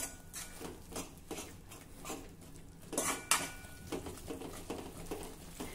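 A spoon repeatedly scrapes and taps around a pan while fresh yogurt masala is stirred continuously, a soft irregular clatter of metal on metal, fairly quiet and close with no talking.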